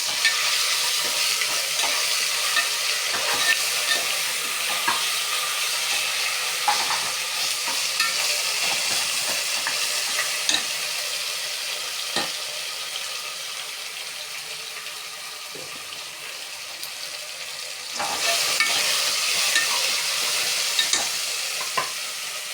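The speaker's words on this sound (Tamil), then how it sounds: "இப்போ நல்லா வதக்கிக்கலாம்." Ginger garlic paste sizzles in a hot pan while a spoon stirs and scrapes it in irregular strokes, a close, steady frying hiss for biryani, with no talk.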